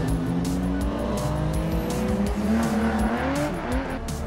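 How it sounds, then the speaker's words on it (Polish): A fifth-generation Ford Mustang (2004–2014) sounds off with a continuous, moderately loud engine roar, rising and shifting in pitch as the car drives, with hints of tyre noise. "Ford Mustang piątej generacji potrafi znaczyć teren niesamowitym brzmieniem silnika"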